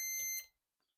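An electronic brew timer sounds during a light lager brew day, a single bright, loud beep burst lasting under half a second that then cuts off to near silence.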